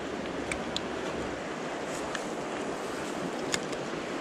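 River stretch with raised flows on an early autumn morning, water rushing in a steady, broadband wash with some wind buffeting the microphone, continuous and fairly faint, with no talking.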